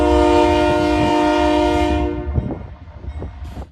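Freight unit train hauled by NS locomotives: a loud, sustained multi-tone horn blast dominates the first two seconds, then fades into rumbling wheel and car noise with irregular clanks as the train rolls past nearby.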